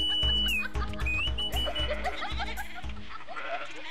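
Sheep bleating in an animated story: several quick, wavering bleats in a row, close and fairly clear, over a rhythmic low pulse of background music.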